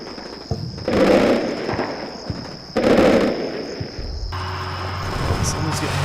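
Gunfire in the war game Combat Mission Shock Force, German mountain troops against Syrian special forces: two loud bursts of rapid shots a couple of seconds apart, then a lower rumbling tail.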